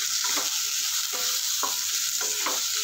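Tomatoes and onions soften as they fry in a pan for a mixed-vegetable cabbage sabzi. A loud, continuous hiss of sizzling oil sits under repeated rhythmic scraping strokes of a spatula, with no voices.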